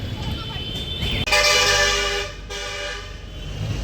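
A loud vehicle horn blares for about a second amid traffic noise on a one-way city street in Krishnanagar, with a voice speaking nearby.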